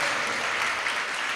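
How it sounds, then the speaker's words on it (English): Round of applause from a gathered audience at a Sunday feast, steady dense clapping filling the space evenly, moderately loud, with no talk over it. "let's give a big round of applause"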